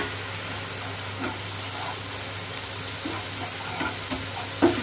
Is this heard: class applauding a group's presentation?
no